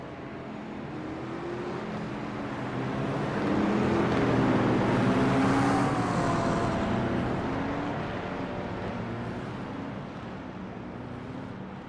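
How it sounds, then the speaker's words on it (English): GT3 race cars at the Nürburgring following a Porsche pace car, heard as a steady broad engine drone that swells toward the middle and eases off, with a faint whine riding over the rumble. "Porsche pace car leading them around."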